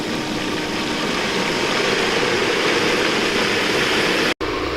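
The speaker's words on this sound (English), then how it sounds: "you'll hear the pump change sounds like that when you start sucking air" Bestway Flowclear pool pump drawing air during vacuuming, a loud, steady broadband rushing roar that holds evenly and then cuts off abruptly near the end.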